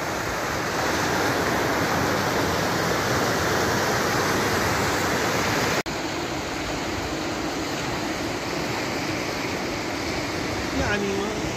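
Loud, steady rushing of river water in a valley near Biel, Switzerland, a constant roar that fills the whole clip without a break.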